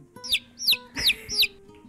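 A human voice imitates a chicken with four quick, high clucking calls in an even rhythm, close and fairly faint, with no other talk.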